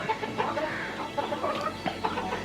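Brahma and other fancy chickens cluck and murmur steadily inside a coop, a busy, continuous flock sound close by with scattered sharper calls.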